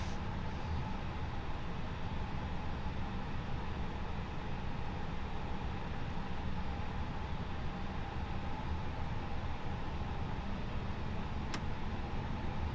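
A steady, dense roar from the engines of an Airbus A330-900neo in Microsoft Flight Simulator, holding even and loud throughout without voices.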